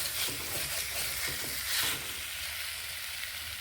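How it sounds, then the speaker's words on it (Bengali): Beans and potatoes sizzle in a hot pan while a spoon stirs them in a few quick scraping pushes, then the steady frying hiss carries on alone. "বেশ ভালোভাবে এইভাবে কষিয়ে নিচ্ছি"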